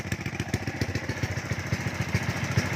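Tuned carbureted racing motorcycle engine idling nearby, a rapid uneven lumpy pulse with a rough, throbbing beat and mechanical clatter, steady and fairly loud throughout.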